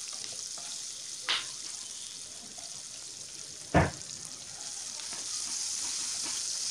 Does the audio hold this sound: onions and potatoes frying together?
yes